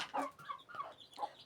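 Chickens on an African village homestead cluck in short, close bursts at feeding time, several calls overlapping over a second and a half with no talk.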